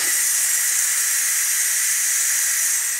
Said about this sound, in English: When the 14 minutes of pressure cook time is up, do an immediate release.